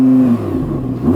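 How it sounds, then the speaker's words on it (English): An Audi R8 RWD V10 engine revs up sharply from idle against soft limiters, its pitch rising and falling in a loud, close burst. "Now let's have some revs."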